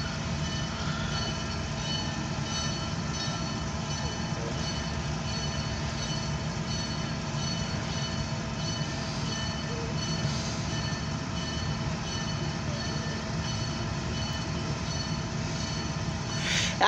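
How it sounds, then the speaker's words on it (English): A combined freight and passenger train rumbles past steadily with a dense, continuous roar and faint squealing tones from the wheels, close by and unbroken throughout. "It's gonna be a freight and passenger combination."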